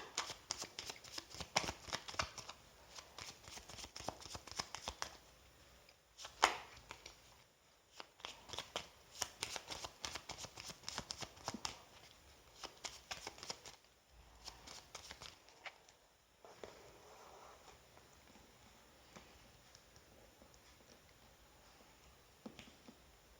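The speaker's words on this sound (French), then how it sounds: "Je vais rebattre les cartes." Playing cards are shuffled again and again, bursts of crisp riffling and flicking separated by short pauses, close and fairly quiet, with no talking.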